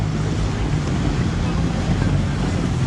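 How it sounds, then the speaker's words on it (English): Steady, loud rush of wind and water on a water taxi ride through Venice, with constant buffeting wind on the microphone and the boat's wash filling the whole stretch. "Here we are in our first water taxi."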